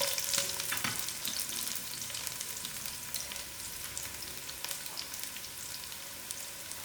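Onions frying in oil in a pot, ready for braising a mutton curry, a quiet continuous sizzle with faint crackles and occasional stirring scrapes, no talking.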